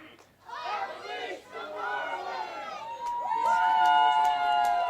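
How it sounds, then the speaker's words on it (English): Spectators at a college softball game, home fans cheering and chanting for a senior batter stepping to the plate, a lively mix of shouts and chatter that swells into a sustained cheer. "a nice little cheer coming from the Marlin faithful"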